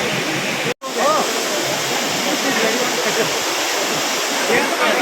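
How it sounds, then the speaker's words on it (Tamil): A waterfall on the Agathiyar mountain trail roars as a steady, loud broadband rush close by, with one very brief dropout near the start; no voices are heard over it. "அகத்தியர் மலையில் ஒரு 8 கிலோமீட்டர் நடந்து வந்தால் இப்படி ஒரு ஃபால்ஸ்."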